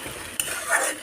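Dried fish chutney frying and being stirred in oil in a pan, a soft close sizzle with a quick scrape of a spoon partway through, brief and alone.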